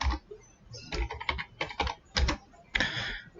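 Someone types a password on a computer keyboard while protecting an Excel worksheet: a close, uneven run of key taps in small bursts, ending in a firmer keypress, with no talking.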